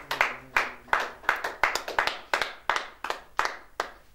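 A church congregation claps together in a steady, even rhythm to acclaim the Lord, about two claps a second, close and clear, with no talking over it.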